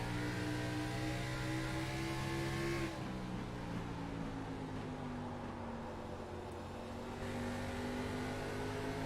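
Race car engine at Richmond accelerating hard out of a turn, a loud sustained roar whose pitch drops at a gear change near the three-second mark and then climbs again as the throttle stays on.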